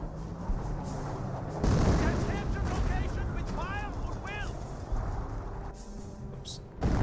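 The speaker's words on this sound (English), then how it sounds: "M2 howitzer now raining on in" M2 howitzer artillery fire in a Company of Heroes battle: heavy booming blasts and rumbling explosions over a continuous battlefield din, with whistling incoming shells and a commentator talking throughout.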